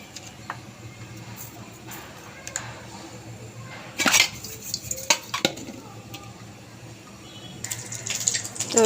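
An egg fries in oil in a pan, a low, quiet sizzle under intermittent scrapes, utensil clinks and pan knocks, with a louder clatter partway through and near the end.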